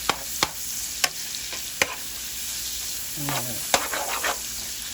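Bacon and onion frying in a pan, a soft continuous sizzle punctuated by sharp clicks of a utensil stirring, close by, with a brief voice near the end.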